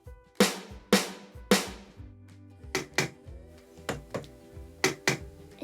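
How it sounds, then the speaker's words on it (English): A plastic container tapped with toy drumsticks as a makeshift snare drum gives a series of crisp, close knocks, some in quick pairs, with brief silences between. "but I think this plastic container sounds quite similar."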